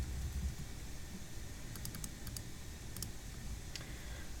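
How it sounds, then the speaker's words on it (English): Someone types on a computer keyboard. Soft, faint key clicks come in a few short clusters over a low steady hum, with no voices. "So what I'm going to do here is I'm going to type it in."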